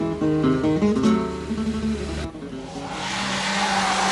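Renault 11 Turbo rally cars on the flat Estoril circuit at the 1987 Rally of Portugal prologue, a loud engine note rising and falling through gear changes, then a fading pass into rushing noise, no talk.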